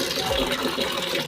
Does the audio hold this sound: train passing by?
no